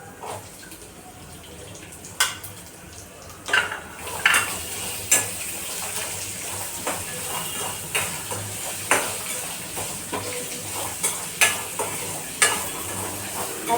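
Chopped onion frying in a pan, a steady sizzle under repeated spoon strokes and scrapes against the pan at a regular pace, close and fairly loud.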